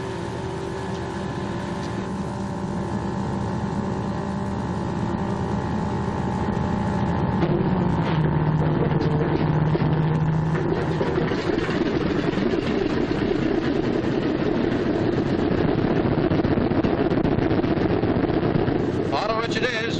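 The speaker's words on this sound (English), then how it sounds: "I'm going to start the left engine first." Left engine of a B-26 bomber cranking and catching, rising from a steady whine into a loud, continuous engine roar that fills the cabin, with a voice talking over it.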